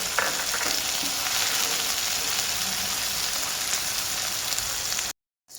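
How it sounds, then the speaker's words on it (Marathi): Chopped onion sautés in oil with cumin and mustard for a brinjal masala, a dense, even sizzle that runs loud and close for about five seconds before cutting off abruptly, with no voices. "त्याच्यामध्ये आपण कापलेला कांदा टाकायचा आहे आणि कांदा थोडा मऊ मऊसूत होईपर्यंत छान असा परतवून घ्यायचा आहे"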